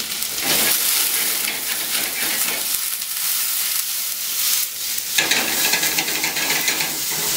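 Ginger and garlic aromatics sizzle and fry in a hot pan with continuous stirring and scraping, a dense crackling hiss that swells partway through.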